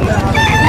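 Chickens at a large poultry market give a short, loud, close burst of crowing and clucking, lasting under a second.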